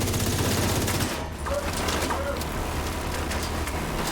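Gunfire from the video game The Division 2, a dense sustained rattle of automatic weapon fire firing 5.56 rounds, loud and continuous throughout.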